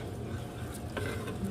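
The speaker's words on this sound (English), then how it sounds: "And we're going to stir this around." A spoon stirs rice and water in a cooking pot for Spanish rice, a soft, brief scraping and swishing that is quiet and close, with no talking.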